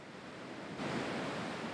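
Ocean surf rolling onto a beach on the Bolivar Peninsula, Texas, a steady broadband wash that swells louder partway through, with no voices.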